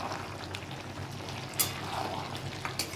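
Winter mixed vegetable curry with a little ghee is stirred in a pan, a soft wet scraping and bubbling sizzle with a couple of sharper clinks of the spoon, fairly quiet and steady.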